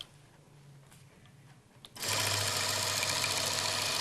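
Free-motion quilting on a sewing machine stitching a clamshell pattern: after about two seconds of near-quiet, the machine starts up loud and close, holding a steady, fast, buzzing whir to the end.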